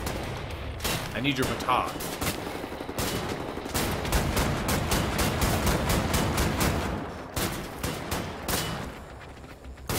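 Gunfire in the shooter Wolfenstein: The New Order, with rapid, closely spaced loud shots in bursts across most of the stretch, briefly under a spoken line.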